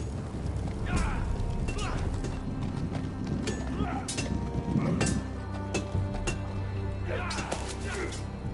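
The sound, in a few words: horse hooves clip-clopping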